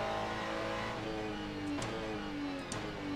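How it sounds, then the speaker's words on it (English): A GT race car engine in the Le Mans Ultimate racing game drones steadily and loudly throughout, with its harmonic tones shifting slightly in pitch and brief bright accents near the end. "I love the sound of this car."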